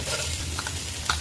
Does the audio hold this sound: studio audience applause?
no